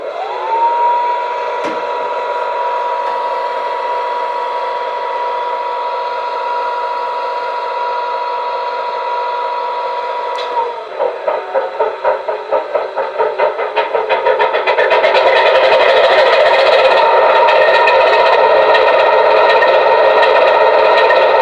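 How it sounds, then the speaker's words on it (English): A model Class 22 diesel locomotive, D5188, starts up: a steady electronic whine and hum, then a stuttering chug as the engine turns over, building into a loud, sustained diesel roar. "So I now have control of the loco, and I'll start it up. It makes a right old racket."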